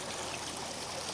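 Stream water flows steadily at an off-grid water collection spot, a close, continuous broadband rush and trickle with no talking.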